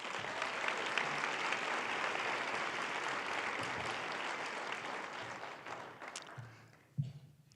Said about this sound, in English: Let's give a round of applause for these girls.